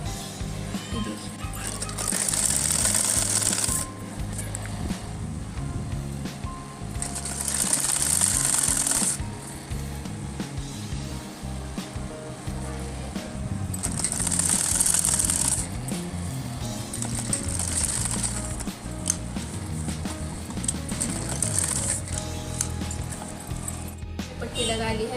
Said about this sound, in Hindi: और ऐसे पूरे राउंड करके सिलाई मार दीजिए।